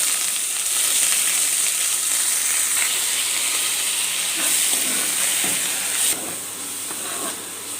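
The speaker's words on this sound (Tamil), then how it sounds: "இந்த எண்ணெயிலே கொத்தமல்லி நல்லா வதக்கிடணும்." Coriander leaves sauté in hot oil with fried chana dal and dried red chillies, giving a steady, fairly loud sizzling hiss throughout with a few faint stirring scrapes, the hiss dropping slightly near the end.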